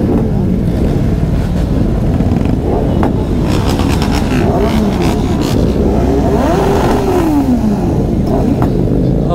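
Motorcycle engine running and revving near the mic at a bike week ride, steady loud drone with rising and falling rev sweeps, wind buffeting throughout and a faint voice.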